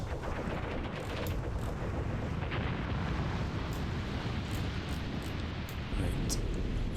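Artillery fire in the Graviteam Tactics war game, a continuous rumbling barrage of distant and mid-range blasts with scattered sharper cracks, dense and steady throughout.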